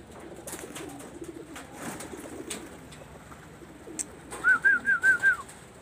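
Pigeons coo in a short run of five rhythmic, rising-and-falling calls near the end, preceded by quieter background rustle and faint outdoor noise, close and fairly clear.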